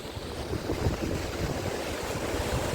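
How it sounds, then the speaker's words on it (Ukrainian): Strong wind buffets the microphone over rough, churning Black Sea storm waves at Odesa, a continuous loud roar with low rumbling surges and no voices. "Вітер сильний, шторм посилюється."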